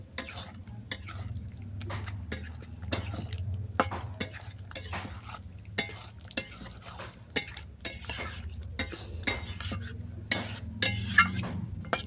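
Garam masala gets stirred into a pumpkin curry in a pot, with a spoon scraping and clinking in a rapid, steady rhythm over a low, continuous simmer for about twelve seconds.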